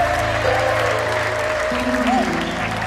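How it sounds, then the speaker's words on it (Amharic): Church congregation clapping together during worship, loud and steady applause close by, with sustained music and voices underneath. "ጭብጨባው ይድመቅለት"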